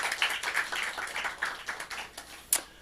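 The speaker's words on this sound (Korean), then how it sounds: "서로를 향해서 우리가 좀 박수를 하죠" Scattered hand claps from a church congregation, individual claps coming unevenly and moderately close, with a sharper single clap near the end and no talking.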